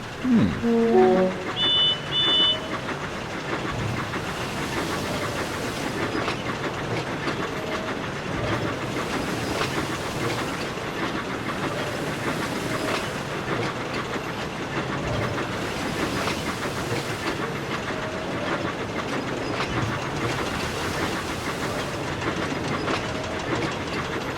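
A diesel locomotive rolls steadily along rails, a continuous rumble with faint rhythmic clatter of wheels over track joints, after a few short horn-like tones at the start.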